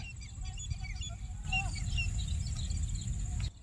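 A small bird, a quail, calls in the open countryside during a rainy camping trip, with a string of short chirping notes over a background of insect buzz and low rumble, fairly faint and sometimes distant.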